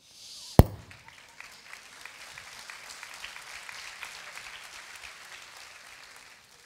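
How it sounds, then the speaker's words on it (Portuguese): A sharp bang opens, then a church audience breaks into soft, scattered applause that builds into a faint, steady patter before tapering off. "Uma salva de palmas para a mídia"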